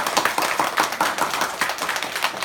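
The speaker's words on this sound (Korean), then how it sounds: "우리 한번 감사의 박수" A church congregation at a Thanksgiving Sunday morning service applauding, dense rapid clapping from many hands filling the room, loud and sustained without a break.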